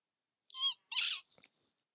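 Two or three short, high squeaks in quick succession, close and fairly quiet, with silence around them.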